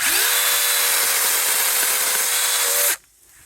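A loud, steady high-pitched motor whine from a cordless handheld chainsaw cutting wood runs continuously for about three seconds, then cuts off abruptly.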